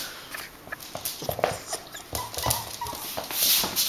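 Coco, a pet dog, whimpers softly and shuffles about nearby, with scattered yips, footsteps and rustling at close range.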